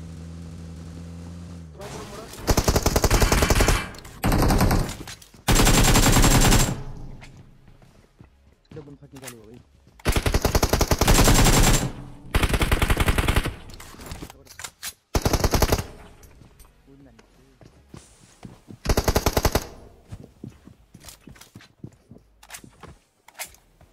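Repeated bursts of automatic gunfire in the battle royale game BGMI, loud and close, arriving in several sustained volleys separated by brief pauses, with game ambience and footsteps between bursts.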